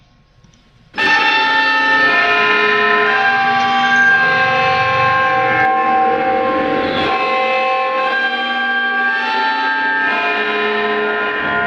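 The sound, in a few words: Westminster chime in a Roblox video game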